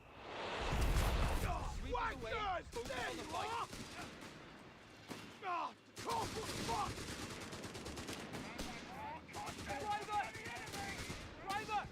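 An on-map artillery officer's barrage in the Company of Heroes 3 video game, with booming impacts and bursts of gunfire running steadily beneath continuous spoken commentary.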